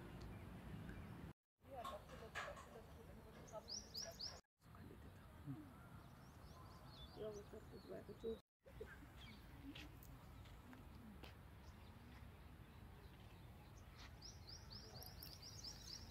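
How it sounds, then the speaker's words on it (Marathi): Small birds chirp and tweet in a tree on a morning walk past farm fields, faint scattered calls at a distance beneath a quiet outdoor hush, with a voice speaking at times. "ह्या समोरच्या झाडावर इतके सुंदर पक्षी चिव चिव चिव चिव करतात ना."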